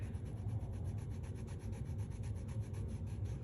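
Paper is rubbed off an image transfer in continuous soft, rapid scrubbing strokes, close and steady throughout, with no talking.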